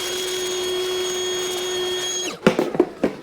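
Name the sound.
vacuum cleaning dust off Acura MDX engine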